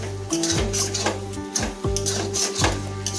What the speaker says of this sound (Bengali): এখন এটাকে আমরা আরো মিনিট 2 ধরে কষিয়ে নেব।